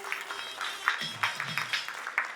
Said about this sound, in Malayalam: നല്ല കയ്യടികൾ പ്ലീസ്.